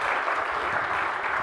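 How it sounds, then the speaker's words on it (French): Sustained audience applause at the inauguration of the Azalaï Hotel on the Dakar corniche in Senegal, a dense steady clatter of many hands that fills the whole moment without pause. "Les applaudissements nourris pour M."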